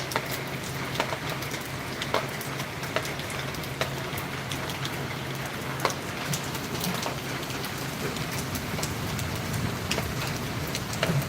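Steady heavy morning rain patters densely on surfaces, a constant hiss scattered with louder individual drops and splashes, growing a little stronger toward the end with no voices.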